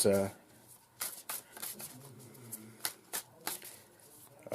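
Cards from an Animal Spirit oracle deck riffle and snap in quick, irregular bursts as they are shuffled and one is drawn, close and crisp, with a voice talking softly in between.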